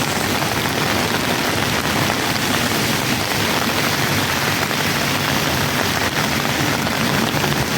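Heavy rain falls in a dense, unbroken roar outdoors, loud and close, with no voices over the steady downpour.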